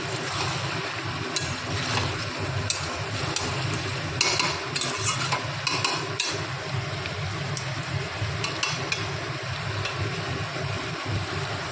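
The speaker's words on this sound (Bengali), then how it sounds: "যতক্ষণ না তেল ছাড়ে ততক্ষণ আমাদের ওয়েট করতে হবে আর এটাকে নেড়ে যেতে হবে।" Chicken pieces and chicken feet being stirred in hot oil in a pan: a continuous hiss of frying with scattered clicks and scrapes from the stirring utensil, steady and close throughout.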